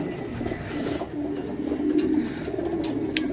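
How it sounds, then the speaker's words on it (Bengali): Several racing pigeons coo steadily at a breeder's home, a continuous low rolling murmur of overlapping calls close by, with no talk over it. "এখানে অনেক সুন্দর সুন্দর কবুতর আছে দেখেন"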